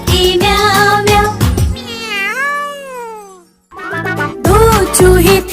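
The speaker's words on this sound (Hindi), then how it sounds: "म्याऊ म्याऊ म्याऊ म्याऊ बिल्ली करती म्याऊ म्याऊ" A cat meows loudly and close by several times, with long, drawn-out calls that rise and fall in pitch and a faint tinkling jingle in between.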